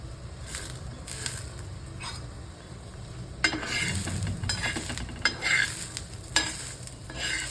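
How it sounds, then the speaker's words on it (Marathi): Pigeon pea beans dry-roasting in a pan with no oil, giving a soft crackle and scrape as they are stirred, with a few sharper clinks of utensil on the pan. "आता नुसतंच भाजून घ्यायचं आपल्याला तेल वगैरे काही टाकायचं नाही आहे"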